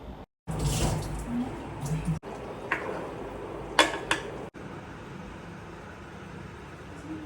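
Chicken curry with coconut milk and coriander leaves being stirred in a pot, with scraping and clinking spoon strokes and wet swishes broken by brief gaps, close by, with some faint voice in the background.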